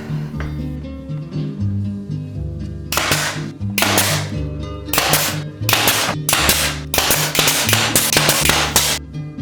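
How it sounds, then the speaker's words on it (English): Wooden trim is nailed in with a series of sharp, loud percussive shots in irregular clusters. The shots stand over a steady musical backing. "I could now nail in the trim"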